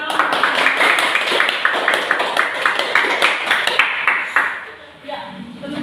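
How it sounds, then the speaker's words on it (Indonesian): Classroom applause after a student presentation in a math lesson on solid shapes: rapid dense clapping from a group of students fills the room for about four seconds, then fades out, with voices murmuring underneath. "Ya baik, kita beri tepuk tangan."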